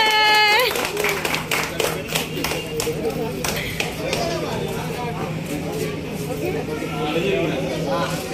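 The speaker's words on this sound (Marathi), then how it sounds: "ये टाळ्या वाजवा ये." A small group claps hands around a newly bought Kia car, a loose burst of uneven claps and taps that thins out amid chatter and talking voices, close by, with a faint steady hum underneath.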